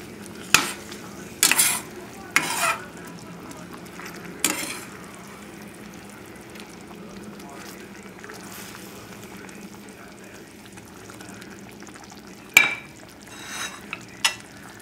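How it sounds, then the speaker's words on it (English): Beef is stirred in a pan of caramelized sugar over a high flame, with a soft steady sizzle beneath intermittent scraping and clinking strokes of a utensil, close by and moderately loud. "So we'll put the meat in there. And allow this meat to get really coated well."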